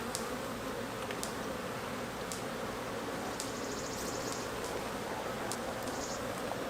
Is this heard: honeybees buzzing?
yes